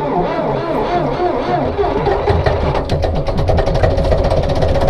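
Hanomag R460 tractor diesel engine cranking and catching after glow-plug preheat, a loud rhythmic chugging that settles into a steady rapid idle, close up, with a voice talking over it.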